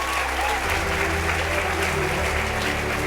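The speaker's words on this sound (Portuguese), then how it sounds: "Pode aplaudir, irmão, se você crê que isso está sendo gerado." Congregation applauding during a Portuguese-language church service led by a preacher, the clapping loud, dense and sustained throughout, with a faint steady tone and a voice underneath.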